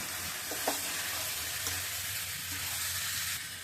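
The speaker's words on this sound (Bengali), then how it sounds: "এবার চুলার আঁচটা বাড়িয়ে একটু ভালো করে কষিয়ে নিই" Food sautéing over a raised flame gives off a dense, continuous sizzle, with a few faint utensil knocks near the start, steady and close throughout.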